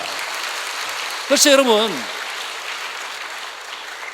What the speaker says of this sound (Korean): 이때는 박수 한번 나와야 돼.